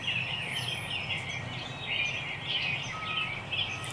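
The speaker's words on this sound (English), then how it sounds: "It sounds like I got 2 birds gobbling." Wild turkeys gobble in an open field near a creek, the calls distant and faint over steady outdoor ambience with high bird chatter, no talk.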